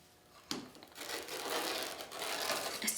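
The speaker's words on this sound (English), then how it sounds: "To save some time, I'm going to cut 2 layers of ruffles at a time." A rotary cutter slices through two layers of fabric ruffles on a cutting mat, making a steady rough crunching and rustling after a sharp start, with a second press near the end.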